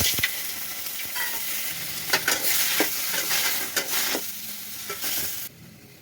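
Tomatoes hitting hot oil in a kadai for an Odia fish curry, giving a bright, steady sizzle with scraping stirs and clicks throughout, cutting off abruptly near the end.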